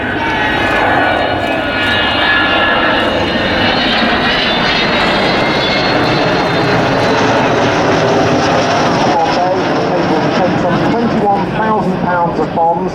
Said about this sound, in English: this time the aircraft is cleaned up, but it will come out now for a good view